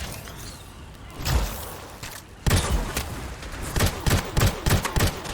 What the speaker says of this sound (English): They're under heavy fire.